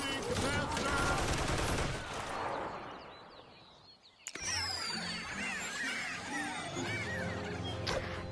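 Gunfire from a charged gun in Toy Soldiers: War Chest, a dense loud burst of rapid shots fading over a few seconds, then a sharp blast followed by busy battle noise with chirpy effects.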